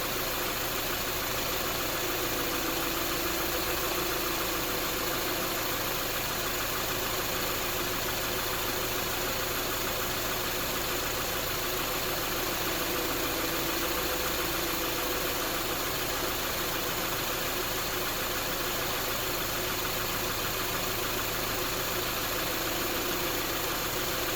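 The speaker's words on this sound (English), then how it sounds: "The compressor's still running" A Subaru idles with its air conditioning compressor engaged, giving a loud, steady mechanical drone and hum that continues unbroken throughout with no talk.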